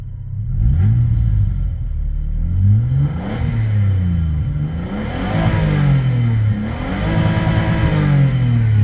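A Toyota Avalon's 50,000-mile replacement engine, hood open, revs in three or four rising and falling sweeps over a steady idle, loud and close with no talking.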